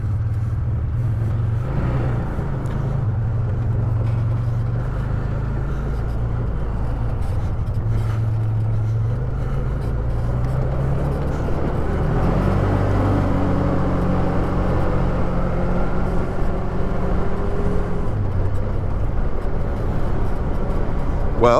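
A 2014 Arctic Cat Wildcat 1000X four-seat side-by-side drives steadily, its engine a loud, continuous low rumble with a few rising pitch sweeps as it accelerates, heard up close throughout.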